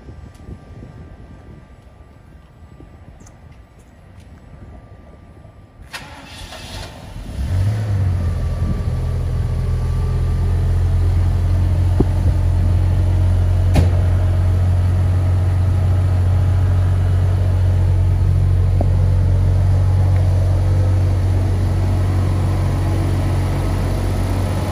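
A 1986 Jaguar XJ-SC with a freshly serviced engine cranks briefly and catches, then settles into a loud, steady, smooth idle close by with no voices.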